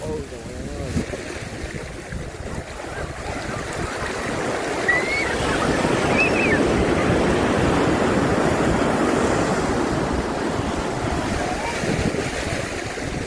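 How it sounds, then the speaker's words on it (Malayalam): Sea waves roll and break at Kappad Beach as a loud, broad wash of surf that swells and stays heavy, with wind buffeting the microphone throughout. "തിരമാല"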